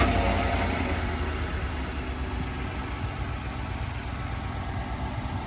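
A 2020 Chevrolet Silverado pickup idles after a remote start, a steady low engine rumble with faint vibration, constant and moderately quiet from start to end.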